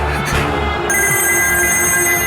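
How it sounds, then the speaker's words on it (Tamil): A telephone rings in a television drama scene, a steady bright electronic tone sustained over the whole short stretch with a busy music-like background, no talk over it. "நம்பூதிரி தான் ஃபோன் பண்ணுறாள்."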